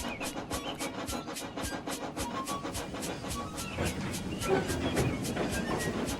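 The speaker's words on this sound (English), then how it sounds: "he heard a train approaching." A train rolls along with rapid rhythmic clickety-clack, steady and moderately close, its rumble growing slightly heavier toward the end.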